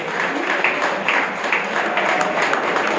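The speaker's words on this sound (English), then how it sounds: "Give them a big round of applause." Brief burst of audience clapping at a leadership talk, a busy, fairly loud patter of many hands with individual claps popping out of the wash.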